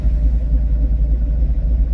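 Idle of a C6 Corvette V8 fitted with a new, larger cam, a steady low rumble with a lumpy, pulsing rhythm, close and fairly loud, running alone without talk.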